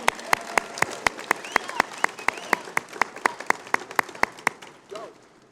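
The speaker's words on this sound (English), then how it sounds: "Big round of applause, everybody." Applause at an awards banquet, heard as a sparse, evenly paced run of single sharp claps, close and distinct, with faint crowd murmur beneath before it stops.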